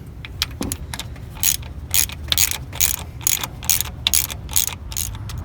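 Ratchet wrench tightening the alternator bolts on a 2005 Toyota Tacoma, a rapid run of crisp clicking strokes repeating steadily in bursts, close and distinct with no talking.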